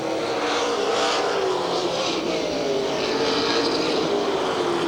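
Race cars at Redwood Empire Raceway (Ukiah Speedway) roar around a turn in a steady, loud, blended engine howl whose pitch slowly shifts, with no voices.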